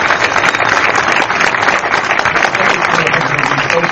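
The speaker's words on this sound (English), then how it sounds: "Let's have a huge round of applause" Audience applause at a film screening Q&A for Giant Little Ones, steady dense clapping from a full room that holds level and loud throughout, with no voices rising above it.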